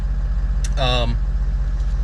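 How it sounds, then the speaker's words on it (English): A Ford 6.0L Powerstroke diesel with a high-pressure oil leak and long-crank fault idles with cold oil, giving a steady low rumble; a brief vocal sound rises over it partway through. "I just want to show you while it's idling."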